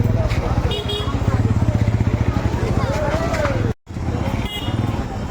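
A crowded New Market street with motorcycles weaving through the throng: rapid, pulsing engine putter from a nearby bike under general crowd babble and traffic noise, briefly cut out before resuming.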